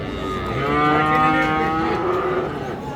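Crossbred Friesian cattle at Raniganj livestock market in Dinajpur, with one loud, drawn-out moo that swells and holds for over two seconds, close to the listener above a murmuring market background.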